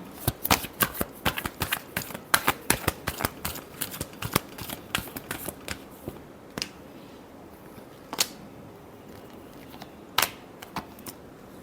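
Tarot cards being shuffled close up: a fast run of crisp riffling snaps that thins out into a few scattered slaps toward the end.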